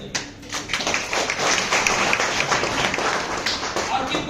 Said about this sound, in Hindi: जोरदार ताली फिर से बजाइए